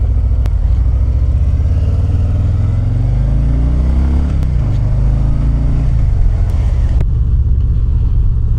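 A 2025 Harley-Davidson Fat Boy in Grey Ghost on a highway demo ride, its engine a loud, steady low rumble that climbs in pitch through the gears and then settles, with wind roar throughout.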